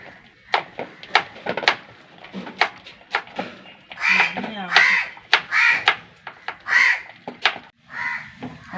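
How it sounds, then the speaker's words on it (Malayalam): A crow caws repeatedly, loud and close, in a series of harsh calls mixed with clattering and clinking sounds nearby. "കാക്ക കാക്ക വലിക്കുന്നുണ്ട്"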